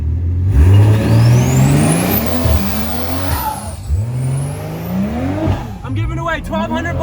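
A car does a burnout in a driveway, its engine revving hard in repeated rising and falling sweeps while the tyres squeal and hiss, loud and close throughout.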